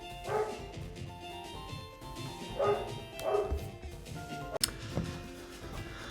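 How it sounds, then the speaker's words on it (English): A dog barks several times in a room behind game music, with short muffled woofs at moderate distance and a sharp click partway through. "Sorry about that, my dog was barking."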